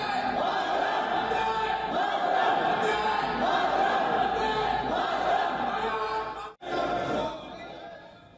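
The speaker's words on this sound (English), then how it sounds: "members of the Indian diaspora greeted him with chants of Modi Modi" A large crowd of the Indian diaspora greeting Prime Minister Modi, a dense, continuous roar of many voices chanting and cheering, loud and sustained with one brief cut near the end.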